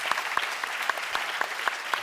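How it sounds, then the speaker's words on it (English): Audience applause at a panel discussion on changing the fashion industry, a steady clatter of many hands clapping with a rhythmic pulse, moderately distant and filling the whole moment without voices. "Let's have a nice round of applause for them."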